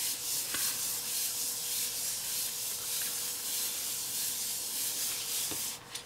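Close, steady rubbing as glued paper craft flaps are smoothed flat, a continuous soft scuffing that sounds alone with no talk.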